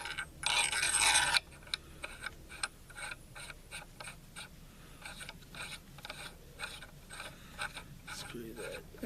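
A barrel nut is screwed down on a 6.5 Grendel rifle upper, giving a series of small metallic clicks and ratcheting ticks after an initial louder rustling burst, close and fairly quiet.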